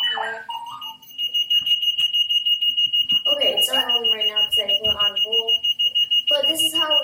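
A Clocky rolling alarm clock rings with a steady, continuous electronic beeping tone that runs nearly the whole time, loud and close, while a person talks over it.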